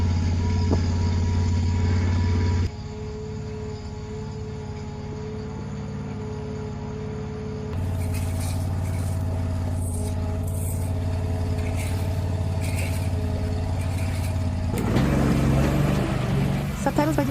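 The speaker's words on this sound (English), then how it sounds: "Let's go outside and be afraid of the sound of the tractor, shall we?" A tractor engine idling outdoors, a steady low droning hum with a constant tone that drops briefly and then returns, close by and continuous, with faint insect-like chirps and some rattling near the end.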